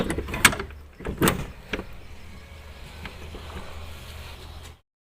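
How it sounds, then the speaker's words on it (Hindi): A door being shut to keep wind out, at a rural home on an overcast morning: a couple of sharp knocks and a rattling thud near the start, then a lower scrape and bump, with steady wind-like noise behind. "और इनका दरवाज़ा बंद कर देते हैं ताकि हवा ना जाए बिल्कुल भी अंदर।"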